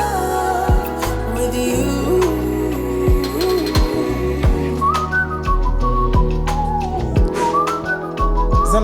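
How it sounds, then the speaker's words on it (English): A melodic tune is whistled in clear, sliding phrases over a steady music track with thumping beats, running continuously and fairly loud. "Someone whistled?"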